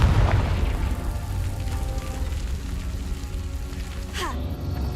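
Explosive blasts of the Confringo fire spell in the Hogwarts Legacy video game, dull booms and crackling bursts over a rumbling game soundscape.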